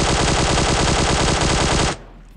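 Sustained rapid automatic gunfire from PUBG Mobile, aimed at a motorbike, rattles loudly and evenly for about two seconds before cutting off abruptly into near silence.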